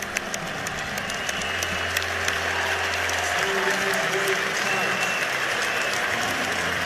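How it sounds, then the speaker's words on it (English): An arena crowd at the NCAA wrestling championship finals gives an ovation for military members, a broad wash of clapping and cheering with a low rumble underneath and an announcer's voice over it. "Give them a nice ovation."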